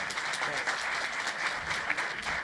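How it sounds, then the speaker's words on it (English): A room full of people applauds at an economic forecast forum, a continuous bright rattle of many hands clapping that holds steady and fairly close for a couple of seconds with no one speaking. "give him a big round of applause"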